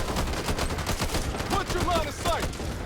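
Rapid gunfire in the zombie shooter Back 4 Blood, dense bursts of shots crackling steadily throughout, with game creature noises and a voice faintly mixed in.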